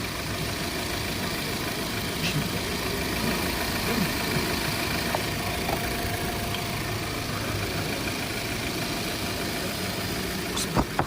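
An Audi car engine with a leaking gasket idles steadily throughout, a continuous low rumble with faint metallic ticks and no voices.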